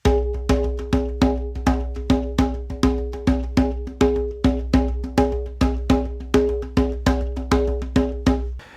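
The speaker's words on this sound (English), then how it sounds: "So a basic 3-3-2 rhythm sounds like this." Hand drum beating a basic 3-3-2 rhythm, crisp resonant strikes in a steady repeating pattern of grouped hits, close and clear with no voices.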